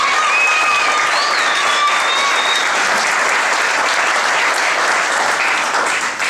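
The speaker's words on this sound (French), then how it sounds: "ça mérite 10 applaudissements" An outdoor gathering at a 2013 carp fishing challenge applauds the Rosa family with loud, unbroken clapping that stays strong throughout.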